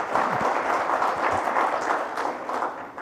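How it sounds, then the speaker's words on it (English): At a Ministry of Road Transport and Highways event, an audience applauds, a steady, full round of clapping throughout, moderately loud and tapering slightly near the end. "I would like audience to clap for this tagline for him."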